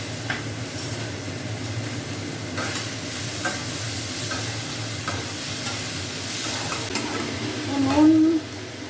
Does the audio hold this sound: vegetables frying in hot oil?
yes